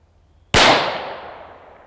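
A single sharp report from a suppressed pistol fired with the slide locked, a sudden loud crack followed by a smooth decaying tail lasting over a second, with no other sounds around it.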